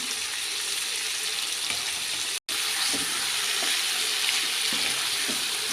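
Chicken masala being stirred in a hot pan, a continuous dense sizzle with faint scraping strokes of a spoon, close and steady, briefly cut out by a short gap midway.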